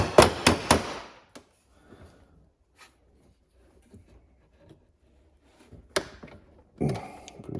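A hammer taps a socket on the air plenum of a John Deere LA145 lawn tractor: three quick sharp knocks up close, then scattered faint taps in near silence and a few louder clanks near the end.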